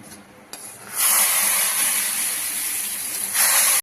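Tempering for chickpea rasam hits hot oil with a sudden loud sizzle and hiss that holds steady for a few seconds, then swells again near the end.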